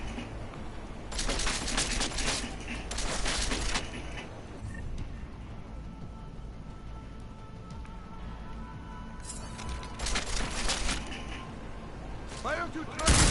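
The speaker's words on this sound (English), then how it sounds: "I'm gonna shoot him in the head." Gunfire in Deus Ex: Mankind Divided, with several loud cracking bursts of shots in clusters separated by quieter stretches of game ambience, and a final sharp report at the end.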